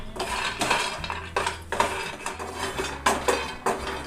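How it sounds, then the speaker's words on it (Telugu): Peanuts dry-roasting in a hot pan, a close clatter of nuts and a utensil scraping and knocking against the metal in quick bursts. "డ్రై రోస్ట్ చేసుకోవాలి పల్లీలు"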